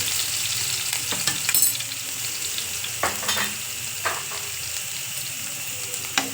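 Gentle, continuous sizzling of spices tempering in oil over low flame, broken by occasional light clicks and scrapes from stirring.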